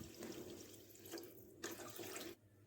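Water is poured into a pot of soaked rice for matar pulao, a soft continuous splashing stream broken by brief pauses, close by and quiet with no voices.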